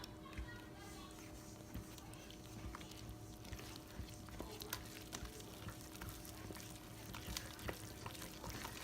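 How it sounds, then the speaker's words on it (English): Waffle batter with a tablespoon plus a teaspoon of vanilla being stirred for 21 Day Fix waffles, heard as continuous soft scraping with scattered light utensil clicks over a steady low hum, fairly close. "So I'm going to stir these up."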